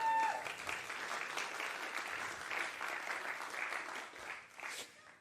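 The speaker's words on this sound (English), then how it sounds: "Indeed, that deserves an applause." Audience at a master's graduation ceremony claps steadily and warmly for about five seconds, a dense, even roomful of applause that fades slightly toward the end.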